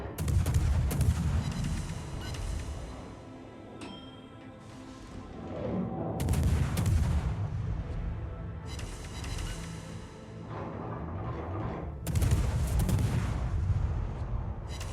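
Heavy naval gun salvos from the French destroyer Kleber in World of Warships, firing HE shells at a Satsuma battleship. Loud booming volleys land in three clustered bursts spaced a few seconds apart, with rumbling tails between them and no talk.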